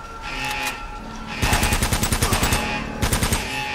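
Rapid automatic gunfire from a firefight in the video game Uncharted, loud bursts of evenly spaced shots that start abruptly and repeat after a brief pause, over a steady bed of game noise.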